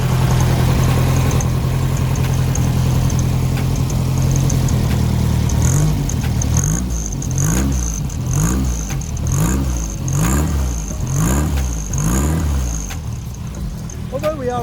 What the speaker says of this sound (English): Although we are running on 4 cylinders, it doesn't sound particularly happy